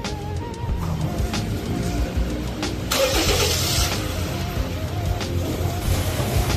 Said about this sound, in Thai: เดี๋ยวสตาร์ทเครื่องหน่อยครับ